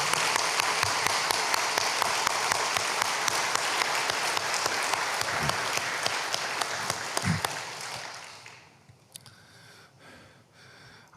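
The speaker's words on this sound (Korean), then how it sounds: "우리 집사님들 영육간에 강건하시도록 뜨거운 박수를 한번 보내도록 하겠습니다." A church congregation applauding: loud, sustained clapping from many hands that fades after about eight seconds into a quiet room with a few scattered sounds.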